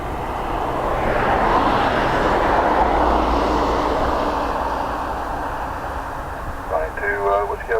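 A plane takes off at Dublin Airport in wet weather, its engines making a loud, sustained broadband roar that swells and then slowly eases. A brief voice, like radio chatter, comes in near the end.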